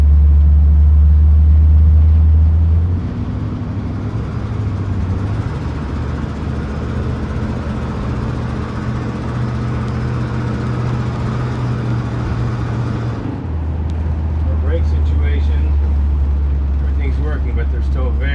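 A 1973 GMC motorhome rolls through a residential neighborhood, its low engine rumble and road drone steady throughout, dipping briefly then swelling again near the end, with talk over it.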